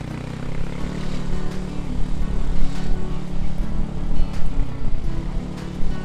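A Yamaha Mio M3 scooter fitted with a loud aftermarket exhaust, with a steady, droning engine note running continuously and fairly loud, close to the listener.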